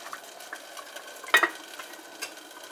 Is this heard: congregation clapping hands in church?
no